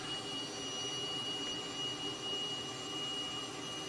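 Steady turboprop drone of a simulated Pratt & Whitney PT6 engine in a Harvard trainer, Microsoft Flight Simulator 2020, an even continuous whine and roar holding at moderate level with no talk over it.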